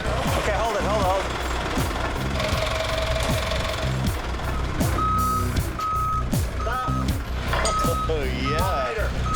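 A forklift's reversing alarm beeps in an even, repeated rhythm while it pulls a heavy Cummins motor out of a semi-truck, with engine rumble, clanking machinery and people talking over it.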